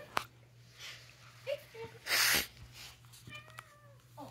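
A house cat meows a few times indoors, with short separated calls and a strained, wheezy cry, fairly close, amid quiet household noise and a burst of rustling.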